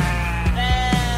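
A sheep bleats in a short sports radio station jingle, a wavering nasal cry over a held musical tone, close and clear.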